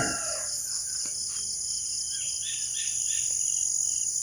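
A rural provincial morning in Bari: roosters crow at a distance, small birds chirp in short bursts, and a constant high insect drone runs underneath.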